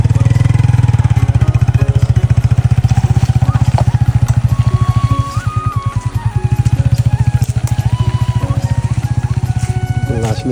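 A vehicle engine roars and revs hard in a waterlogged field, loud and close, with a throbbing drone throughout and pitch rising and falling as it strains.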